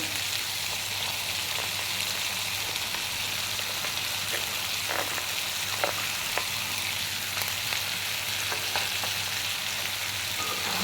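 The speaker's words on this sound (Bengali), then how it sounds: "ভেজে নিচ্ছি, তারপরে একটু গাজর, পেঁয়াজ, কাঁচামরিচ, ছোলা বুট দিচ্ছি" Carrot, onion, green chilli and boiled chickpeas sizzling in a pan, a dense continuous hiss of frying with light stirring taps, close and even, no voices.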